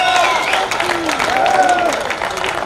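An audience at a Hindi poetry recital applauds in a dense, continuous wash of clapping, with shouting voices and cheers rising over it.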